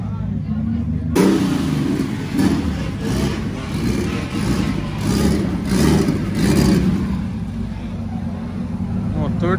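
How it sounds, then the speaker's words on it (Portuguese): A Nissan Skyline engine revving at a drift track, loud and near, pulsing in repeated surges after a sudden start, with people talking over it. "motor de Skyline, essa é novidade"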